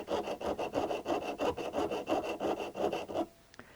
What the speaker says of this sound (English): To start off the sawing, I find that it's a little bit easier to go in at an angle first.